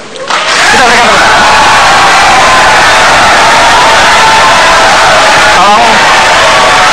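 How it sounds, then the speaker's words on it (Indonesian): Loud crowd cheering and applause at an Indonesian 2014 presidential debate, a sustained roar of shouts and clapping that fills the whole stretch at full volume. "Terima kasih tepuk tangannya"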